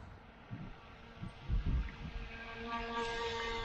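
A small motor of a Flytec V009 RC jet boat whines faintly over water, rising to a steady higher buzz, with wind buffeting and low thumps in the background.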